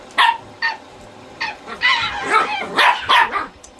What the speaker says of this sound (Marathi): 2 डॉगी बघा कसे एकमेकावर भेटत आहे बघा